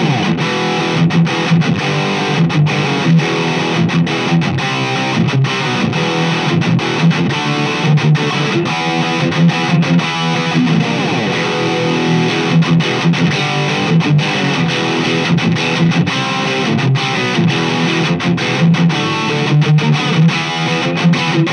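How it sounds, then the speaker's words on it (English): A 1982 Gibson Les Paul XR-2 in tobacco sunburst with microphonic pickups plays through heavy distortion, a loud, dense stream of picked notes and chords ringing continuously with no talking. "these pickups are ridiculously microphonic, so you're gonna get a lot of squealing whenever you have any type of distortion with them"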